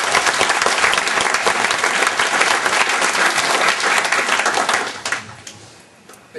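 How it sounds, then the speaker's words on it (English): A warm round of applause from guests at a golden wedding celebration, dense clapping from a crowd in a room that holds steady, then thins out and fades. "I'd like to give them a round of applause as well"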